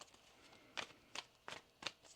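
Tarot cards are shuffled in four quick, crisp riffling bursts at a steady pace, faint and close up against a quiet room.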